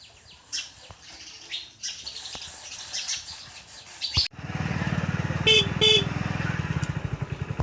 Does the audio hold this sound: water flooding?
no